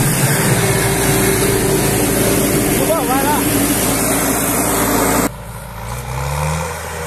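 A New Holland T6 110 tractor drones loud and steady while pulling a disc harrow across a field, its engine roaring continuously before the sound drops off abruptly near the end.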